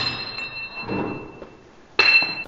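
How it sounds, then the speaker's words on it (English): A hardened, brittle steel knife blade snaps apart between two fingers, giving a sudden bright metallic crack near the end, with a short ringing tone after it and faint handling noise before. "It breaks really easily without any effort, two fingers only, and it snaps right apart."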